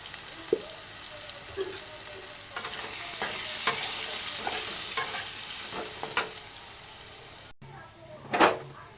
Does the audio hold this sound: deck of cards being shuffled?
no